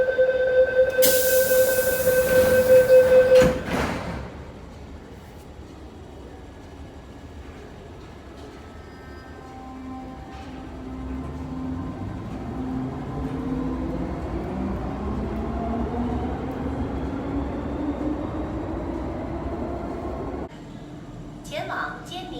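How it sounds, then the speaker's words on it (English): Metro train bound for Kennedy Town pulling into underground HKU Station in Hong Kong, with rising rail hum and squealing wheel tones as it slows, after a tonal chime and a Chinese and English platform announcement at the start. "The train to Kennedy Town is arriving."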